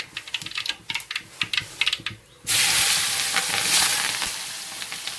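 Mustard seeds crackle in hot oil for tempering, starting as a rapid run of sharp close pops, then breaking into a loud, steady sizzle that fills the rest of the moment.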